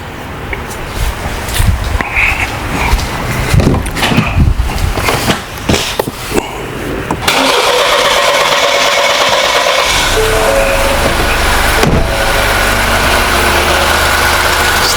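A 2020 Ford Escape engine cranks for a long stretch with rough, uneven bursts before catching and settling into a steady, loud idle hum close to the microphone.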